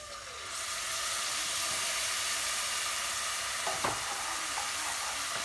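Dry vermouth poured into a hot pan of rice sets off a steady, loud sizzle and hiss that swells up after a brief start and holds evenly, with a faint scrape of stirring partway through.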